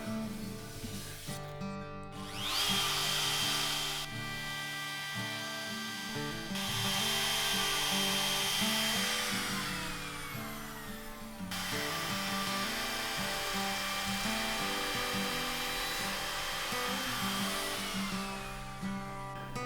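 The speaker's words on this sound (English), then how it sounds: "use a router to flush it up around the edge" A router trims the wooden top of a P90 electric guitar flush with the body edge, a loud, steady whining cut with strong harmonic tones that surges and dips in passes, briefly cutting out twice.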